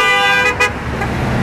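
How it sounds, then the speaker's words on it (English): A car horn gives a loud, close, sustained honk with a brief break partway through, set against roadside traffic. "they'll make a signal, and they'll honk their horns"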